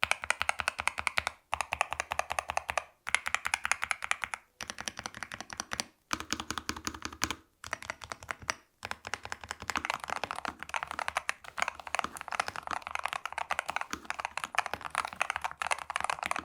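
Mechanical gaming keyboard typing test, an endgame-class board: fast, dense runs of crisp key clacks in bursts separated by brief pauses, steady and fairly quiet, with no voices over them.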